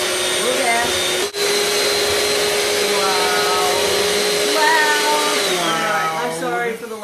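Electric mixer blending chocolate avocado pudding, a loud steady motor whine running almost continuously with a brief dip near the start, pitch shifting as the load changes, with faint talk underneath.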